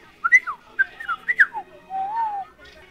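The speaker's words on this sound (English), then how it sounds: "Whistle at him" Someone whistles a short series of rising and falling chirps, ending in one longer sliding whistle.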